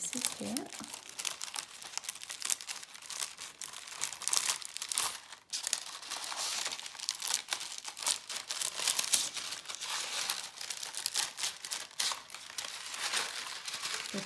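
Close, continuous crinkling and snipping of paper as scissors cut out pieces for a paper peony flower, uneven in rhythm, with no talking.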